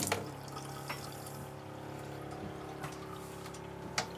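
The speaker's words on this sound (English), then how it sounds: "Of course, right now we are running off of the water pump." Travel trailer plumbing running on its water pump, water flowing steadily from a faucet with a constant hum and a few faint clicks, close and without talk.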